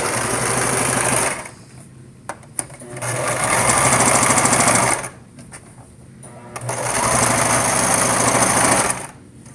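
A sewing machine stitching a pillowcase runs in three long, steady whirring bursts, close and loud, with brief quieter gaps filled by handling clicks. No voices are heard.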